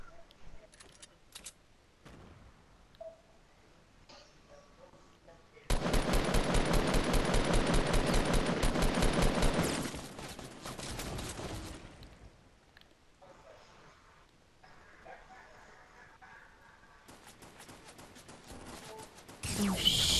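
A sustained burst of rapid automatic gunfire in the video game Fortnite, loud and dense for several seconds, set among quieter game sounds and scattered clicks, with no talking.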